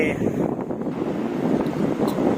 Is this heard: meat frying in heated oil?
no